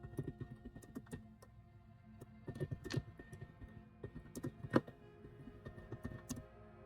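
Someone types on a computer keyboard close to the microphone, in quick irregular bursts of clicks with short pauses between them.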